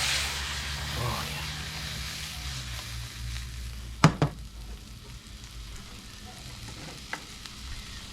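Shrimp with crushed red peppers sizzling softly in a hot pan, a steady low frying hiss with a couple of sharp utensil clinks midway.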